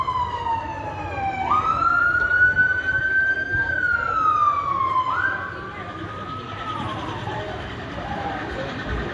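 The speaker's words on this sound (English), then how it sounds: "another two police cars" A police car siren wails loudly and close by, its pitch sweeping up and down in long glides over the rumble of street traffic.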